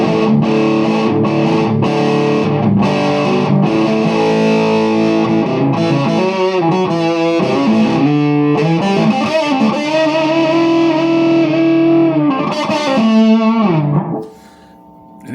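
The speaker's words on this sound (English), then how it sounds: "it gets really, really gainy." Electric guitar through a VHT Special 6 Ultra combo amp with gain mods, cranked into heavy high-gain distortion, playing sustained chords and riffs loudly and alone before cutting off near the end.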